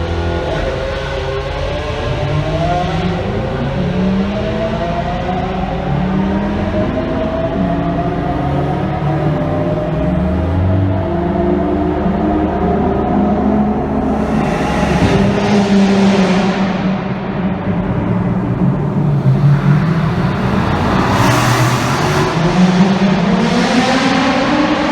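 Lamborghini Aventador, Lamborghini Huracan and Nissan GTR driving together through the Wabash Tunnel in Pittsburgh, with loud, echoing engine roar that rises and falls through repeated revs and gear changes, and sharp bursts of exhaust around the middle and end.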